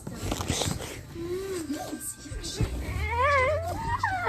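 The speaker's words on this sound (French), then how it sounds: "Le chat!" A cat yowls in a drawn-out, wavering caterwaul, followed by a louder rising meow up close, with scuffling noises in between.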